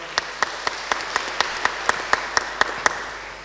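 Audience applause at a gala final of a world Polish-language school competition, a steady crowd of clapping with regular loud hand claps standing out, moderately close.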